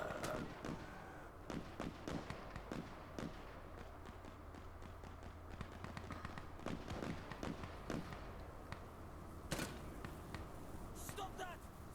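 Rapid gunshots crack out in the tactical shooter game Insurgency Sandstorm, scattered sharp bursts near and far across a busy firefight, with a player's voice talking over the shots.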